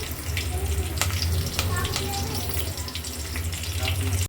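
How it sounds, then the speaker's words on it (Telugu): Onions and fresh curry leaves fry in hot oil for a snail curry, a loud continuous sizzle close up with faint crackles and no talking. "ఆనియన్స్ అండి ఫ్రెష్ కరివేపాకు చూడండి ఎంత ఫ్రెష్గా ఉందో వేగనిద్దాం"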